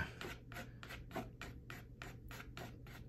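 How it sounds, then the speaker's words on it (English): Rhythmic scraping of watercolor paint with a credit card or palette knife, about ten short rasping strokes in a steady beat, close and fairly loud over a low steady hum. "So you can use a credit card or even a palette knife you can use. Scraping a few rocks"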